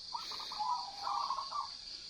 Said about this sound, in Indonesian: 5:30 pagi tapi sudah pada bunyi burung perkutut